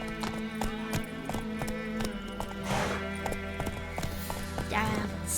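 Horse galloping in The Witcher 3, rapid rhythmic hoof clip-clops close up, with occasional snorting breaths and creaking tack, and a person speaking over it.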